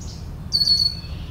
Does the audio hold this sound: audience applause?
no